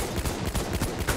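Rapid automatic gunfire in the World War I shooter game Battlefield 1, a short dense burst of close shots with no pauses.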